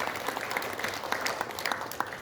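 An audience at an award ceremony for a patriotic prize claps steadily, a short burst of crisp, evenly spread applause in an indoor hall.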